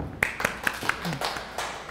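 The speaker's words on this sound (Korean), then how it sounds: "박수 한번 쳐주세요" A few people clapping in a quick, even rhythm, sharp claps close by, with a voice talking alongside.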